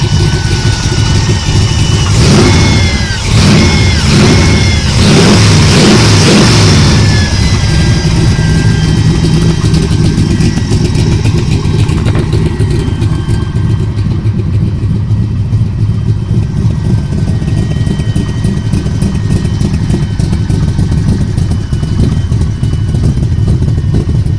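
A smoky C3 Corvette engine, loud and close, revving hard a few times with rising and falling pitch before settling into a steady rumbling idle.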